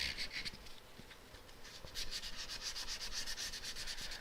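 A wood turning of a gnarly crotch piece gets sanded with 240 grit sandpaper, giving a steady, close rasping hiss that swells and fades in a quick rhythmic pattern, with nobody talking.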